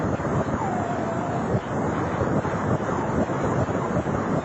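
X-ray data from the black hole GRS 1915+105, converted into sound, produces a loud, steady, rushing roar like wind or surf, with faint whistling tones drifting through it and no speech.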